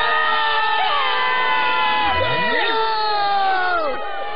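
A cartoon crowd shouts in a dense, loud wall of high, overlapping voices, with wavering cries and whoops rising and falling throughout.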